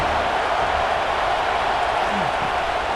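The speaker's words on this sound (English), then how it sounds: "This crowd bringing the energy and noise early." Stadium crowd noise in the College Football 26 video game during Utah versus USC, a steady, dense roar holding at an even level throughout, with a faint voice underneath.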